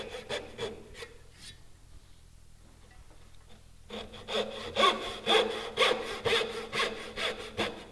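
A hand saw cuts down through the end of a wooden tailboard, its rhythmic push-pull strokes faint and sparse at first, then growing loud and steady after a brief pause, close up with no talking.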